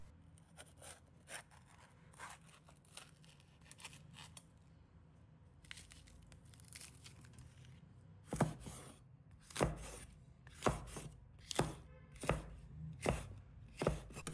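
A knife chopping a red pepper into small pieces on a cutting board, a series of sharp, close, evenly spaced thuds growing stronger toward the end, with softer slicing sounds before them.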